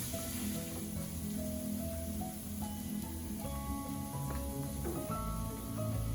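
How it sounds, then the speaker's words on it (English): Arbi (taro root) vegetable frying in a pan with curry leaves as turmeric powder goes in, giving a steady close sizzle with faint crackles throughout. "Once lightly cooked, I will throw in the turmeric powder"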